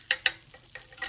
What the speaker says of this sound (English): Just kind of let that butter melt down there.